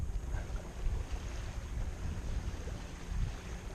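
A sailboat runs under full sail on a calm day, with a steady low rush of wind and water around the hull and some buffeting wind noise on the microphone, no voices.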